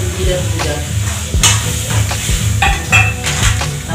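Masala frying and sizzling in hot oil in a pan for a meat dish, with steady crackle and repeated stirring scrapes and clinks of a utensil, close and fairly loud.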